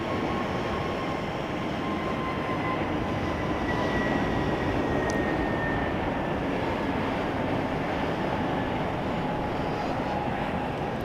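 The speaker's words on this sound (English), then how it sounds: "All right, our A220's headed out there." A steady, loud broadband roar from an Airbus A220 jet at Raleigh-Durham International Airport, with a faint whine sliding slowly across the constant rumble, continuous for the whole stretch with no talk.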